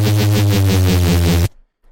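Gritty neuro reese bass synth with overdrive dynamics turned fully down drones loud and distorted with a pulsing wobble for roughly a second and a half before cutting out sharply.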